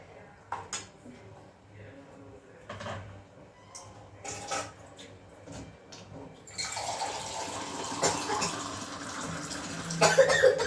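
Water poured into a cooking pot while making rasam, a splashing, rushing pour that starts partway through and continues to the end, preceded by kitchen clatter and a person speaking nearby.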